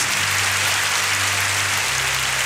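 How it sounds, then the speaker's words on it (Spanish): Congregation applause during a church service, a loud continuous wash of clapping with a low sustained musical tone underneath that shifts near the end. "Aplaudan alegría. a Jesús!"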